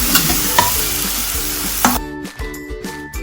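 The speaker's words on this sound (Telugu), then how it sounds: "ఎర్రగడ్డలు వేగినాయి, పచ్చిమిరపకాయలు తొక్కు వేస్తాను." Onions frying in a pan with green chilli paste and turmeric, a loud steady sizzle with spoon stirring scrapes, then the sizzle drops off as the paste goes in.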